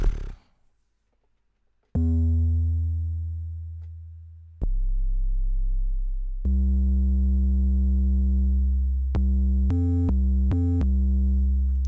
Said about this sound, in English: Wow, you hear that oscillator?